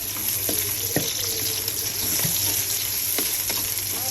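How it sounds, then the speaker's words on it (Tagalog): Onions hitting a hot pan for chicken adobo, giving a steady sizzle with a hiss throughout and a few sharp clinks and scrapes of a utensil, with no talking. "Lagay na natin yung ating sibuyas."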